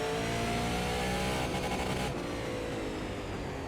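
A Super Late Model stock car engine drones at sustained high revs on a short bullring oval in iRacing, loud and steady with a slight pitch shift as it holds speed through the turn.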